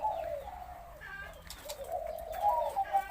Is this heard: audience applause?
no